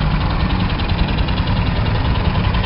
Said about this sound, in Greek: ο ήχος αυτός του Ρελαντί είναι όντως